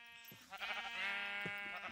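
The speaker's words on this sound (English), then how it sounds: "There's sheep over here too," A sheep in the video game Minecraft bleats a few times in quick succession, clear and close, with a wavering nasal tone and no one talking.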